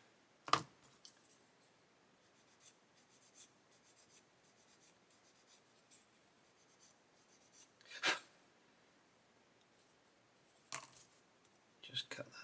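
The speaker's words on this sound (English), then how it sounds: "Just cut that nubbin off of there." Snips of hobby cutters trimming parts of an Airfix 1/35 Alvis FV622 Stalwart plastic model kit from their ejector tabs, a few sharp isolated clicks spaced seconds apart over quiet room tone.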